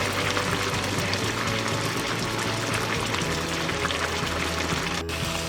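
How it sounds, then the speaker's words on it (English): Spicy sloppy joe sauce bubbles and simmers in a pan, a dense, steady, close bubbling hiss with no talk. "And now it's going to come up to a boil, and we're just going to let this simmer."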